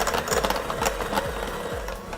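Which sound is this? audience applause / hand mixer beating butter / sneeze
hand mixer beating butter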